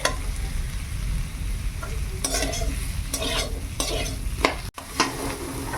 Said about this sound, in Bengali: আলুটা খুব সুন্দর সিদ্ধ হয়ে গেছে একটু ভেজে নেই